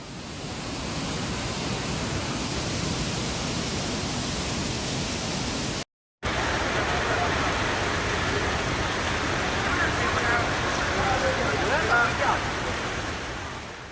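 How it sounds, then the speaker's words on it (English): Dense, roaring hail pours down continuously on Kunming's Changshui International Airport, a loud hiss of countless impacts, briefly cut off by a short silence before resuming. "The hailstorm struck the airport with full force"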